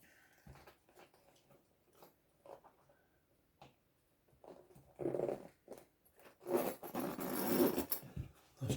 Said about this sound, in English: It still zips up all right.